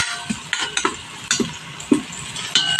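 Garlic and onion sautéing in a pan, irregular scraping stirs and utensil knocks over a light sizzle, close and moderately loud, with no talk.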